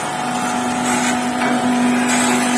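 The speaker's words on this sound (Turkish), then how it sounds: "Şu an haşlama işlemi başladı" A welded, corroded engine cylinder head surface being machined gives a steady, loud whirring hiss over a constant low hum, unbroken throughout.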